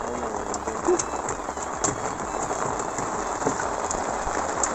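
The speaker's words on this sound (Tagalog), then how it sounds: "Ulan na mga idol, lakasan ng ulan!" Heavy rain pours steadily onto surfaces nearby at the Pandana River in Calauag, Quezon, Philippines, a dense continuous hiss with scattered louder drops, with a few faint voices underneath.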